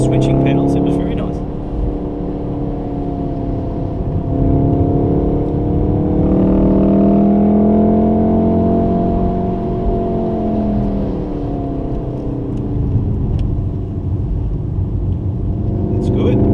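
A Volkswagen Golf R engine pulls hard around a racetrack at a Wakefield trackday, a loud sustained drone rising and falling in pitch as it accelerates, heard from inside the car with voices talking over it.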